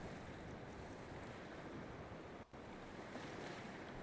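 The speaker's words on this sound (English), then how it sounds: "It is super windy here." Strong wind blowing outdoors, a steady roaring rush of air buffeting the microphone with constant loud noise and a brief dip, no voices.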